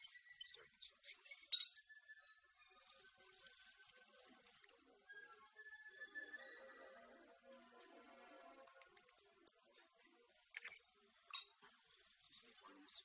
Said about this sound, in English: Adding 500 milligrams crystallized sugar to common hand cream. Stirring in slow motion.